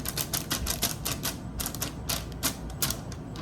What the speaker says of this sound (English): you're gonna take the bigger circle and go ahead and cut around it